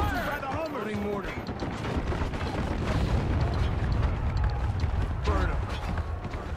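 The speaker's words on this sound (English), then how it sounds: "Loading mortar." Mortar fire and explosions in the military shooter Spec Ops: The Line, with booming blasts and mechanical clatter from the weapon, dense and loud, while voices talk over the action.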